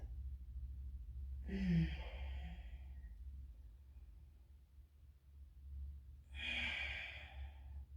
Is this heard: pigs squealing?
no